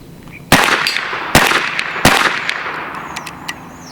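Three sharp, loud shots from a Bin Tac B&W S45 semi-automatic PCP airgun crack out about a second apart close up, each with a quick decaying tail, followed by a faint click.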